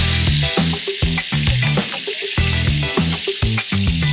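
Onions sizzle and fry loudly in a pan while a Tamil mutton bone curry is being cooked, with continuous crackling and periodic stirring throughout.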